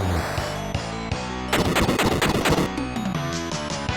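Bomb attack in Final Fantasy Mystic Quest, a burst of dense, rapid explosive blasts crashing together over chiptune music with a steady beat, the blasts loud and close for about a second before the music carries on alone.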